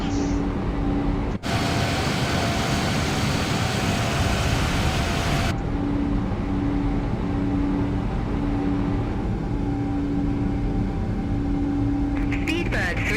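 Inside a simulated Boeing 777-200 in MSFS 2024, the landing gear retracts after takeoff. A loud whooshing rumble swells over the steady engine roar, then cuts off abruptly and leaves a pulsing mechanical hum.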